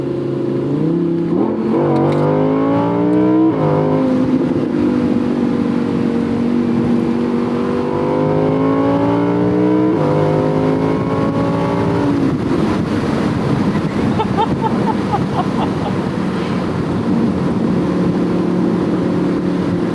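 The naturally aspirated 5.2-liter V10 of a 2018 Audi R8 V10 Plus Spyder roars continuously, pitch climbing through gears with brief drops between shifts, heard from inside the moving car.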